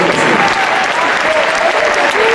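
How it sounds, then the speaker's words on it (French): Loud, dense applause from a Starseniors 2016 singing-show audience after a song, many hands clapping steadily and close, with no pause. "on va applaudir très fort"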